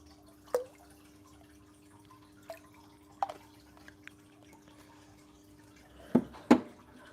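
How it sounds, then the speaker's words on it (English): Dechlorinator dripping into fish tank water: sparse, small plinking drops at irregular intervals, faint and close, ending with two louder splashy drips in quick succession. "Let's just add some dechlorinator and it will do the trick"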